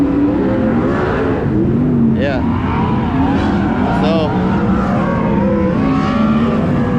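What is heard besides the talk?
sprint cars racing at Attica Raceway Park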